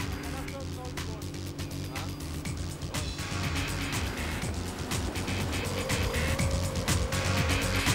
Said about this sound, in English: The heat and extreme gravel tracks are ideal for pushing the rally car to its limits.